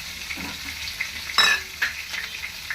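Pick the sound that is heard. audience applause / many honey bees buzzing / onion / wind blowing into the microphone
onion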